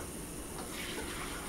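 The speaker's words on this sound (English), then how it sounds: "pour off the liquid." Liquid from a homemade herbal remedy with dandelion flowers and oranges is poured off, a faint brief steady trickle and splash of water.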